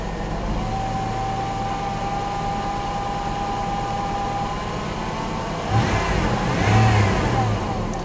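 An old truck's engine idles steadily, then revs up briefly twice near the end as the throttle is blipped, close and moderately loud.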